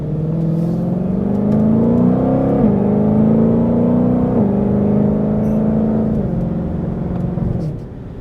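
A Ford Mustang GT500 engine roars loudly and close, its pitch rising and stepping down sharply through several downshifts with throttle blips, then fading slightly at the end.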